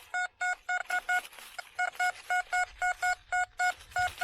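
A metal detector sweeping over a target gives a rapid run of short, evenly spaced electronic beeps, close and fairly loud, alone in the field without speech.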